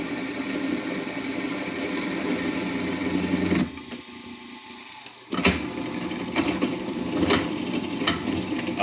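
A 1/3 horsepower electric motor runs with a steady, close whirring drone. It cuts out briefly partway through, then starts up again at full strength.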